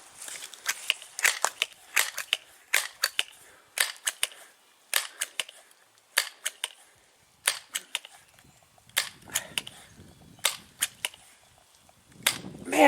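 Crosman 1377 air pistol being pumped and fired at a chronograph, heard as repeated clusters of sharp clicks and snaps from pumping strokes with a few sharper pops, fairly close, with faint movement and brief low voice near the end.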